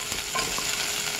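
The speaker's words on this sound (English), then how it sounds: "onions frying away nicely." Onions frying and being stirred in a pan for a quick Chinese curry: a steady, close sizzle with soft scraping stirs running through the whole moment.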